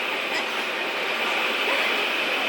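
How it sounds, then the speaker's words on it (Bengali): Train carriage interior at a station, with steady broadband rumble and hiss of the rail car holding constant throughout, no voices standing out. "আমাদের ট্রেন দিয়ে দিয়েছে, আমরা সব উঠে গেছি"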